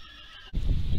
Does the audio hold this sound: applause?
no